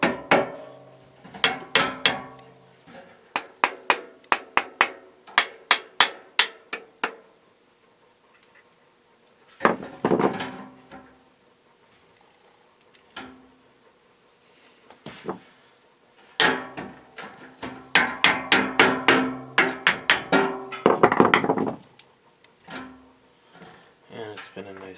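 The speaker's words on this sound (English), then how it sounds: "we need to align the bearings, so that means we hit the shaft with the screwdriver" Screwdriver tapping the shaft of a two-speed Galaxy box fan to seat its bearings: bursts of sharp, rapid metallic knocks, close and loud, separated by short pauses, with one quieter gap mid-way.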